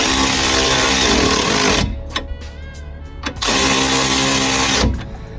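A powered ratchet whirs loudly while turning a stabiliser link nut on a Vauxhall Meriva, running in two long buzzing bursts separated by a quieter gap with clicks and faint mechanical noise.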